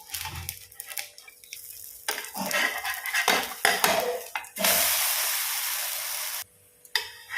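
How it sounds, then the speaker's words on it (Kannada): A dosa gets flipped on a pan with clanking spatula and metal scrapes, followed by a bright, steady sizzle of frying for a couple of seconds before it cuts off, close up and with no talk. "ಈಗ ಇದನ್ನು ಟರ್ನ್ ಮಾಡಿ ಹಾಕುವ."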